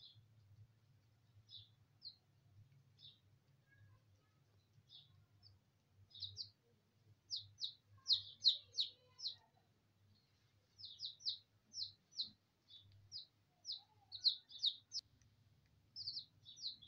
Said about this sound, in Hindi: चूजे जिहड़े ने अपने बाजरे वाले लिफाफे ते चढ़े ने